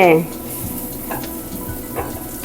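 Food sautéing in a pan for an English breakfast, a soft continuous sizzle with faint stirring scrapes, steady and close, following a brief voice at the start.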